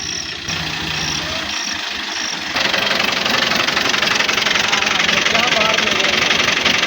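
A tractor engine runs with a steady, loud, dense rumble that gets louder and fuller about a third of the way through and then holds constant to the end.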